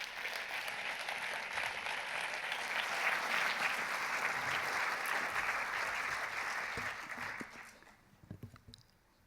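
Sustained audience applause at an awards ceremony, a dense, even clapping wash that holds for several seconds before fading out near the end.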